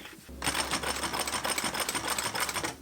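A sewing machine runs steadily while stitching a seam near the end of a zipper on a pack, a close, fast, even mechanical chatter that starts after a brief pause and continues to the end.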